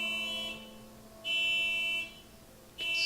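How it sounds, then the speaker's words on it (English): Electronic alarm buzzer in The Cat Lady video game, a steady high-pitched tone that sounds in loud bursts of about a second each, separated by short pauses, alone with no talking. "Someone turn out their alarm."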